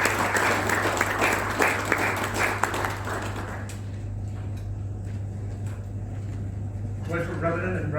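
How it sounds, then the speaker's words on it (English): An audience at a Wardens Club conclave claps for the speaker giving the inaugural address. Applause fills the first few seconds over a steady low hum, then fades into scattered claps and room noise. A voice comes in near the end. "Big round of applause,"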